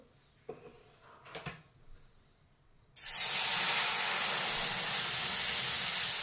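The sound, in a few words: water heating in the same kadhai used to roast semolina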